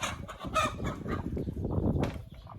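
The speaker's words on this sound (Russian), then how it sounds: "Петух" A rooster in a backyard henhouse clucks and gives short throaty calls close by, a few bursts over a couple of seconds against faint farmyard noise.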